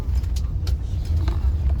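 A car rolls slowly forward near an old well in Madina, Saudi Arabia, its steady low engine and road rumble holding close and even throughout.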